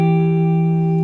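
A guitar sounds two sustained notes together, the root of a chord and a higher note, ringing clear and steady for about a second with no talking.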